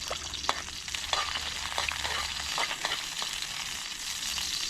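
Garlic and onion sauté in hot oil, sizzling and spattering steadily with sharp crackling pops over a constant frying hiss, close and without talk.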